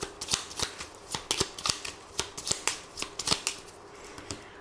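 A 32-card deck being shuffled and cut, a quick run of crisp riffling clicks and flicks repeating steadily and close up, with no talking.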